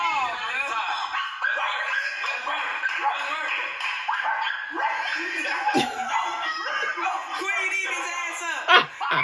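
Dogs bark, yip and whimper repeatedly at close range in an indoor setting, the high barks mixed with people talking and laughing throughout.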